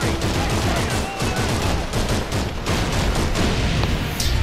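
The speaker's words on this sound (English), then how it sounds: "You just explode. There you go. That's a grenade." Grenade explosion and rapid gunfire in the video game Call of Duty 3, a dense, loud continuous barrage of shots and blasts filling the whole moment.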